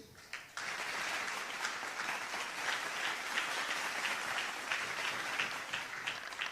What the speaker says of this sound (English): And another hand clap for the journalists that participated.